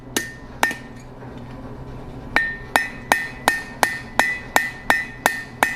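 Hammer strikes on hot steel while forging a punch: two ringing blows, a short pause, then about nine steady, evenly spaced clangs, close and loud.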